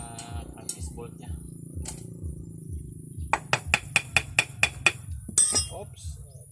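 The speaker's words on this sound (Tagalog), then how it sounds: "Tanggalin natin yung mga crankcase bolt nya" Metallic clinks and taps while crankcase bolts come out of a Honda CT125 motorcycle engine, a quick run of sharp ringing hits midway over a low mechanical hum, with people talking in the background.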